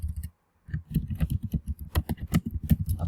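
Rapid typing on a computer keyboard, a steady run of close, crisp key clicks with a short pause near the start, no voices.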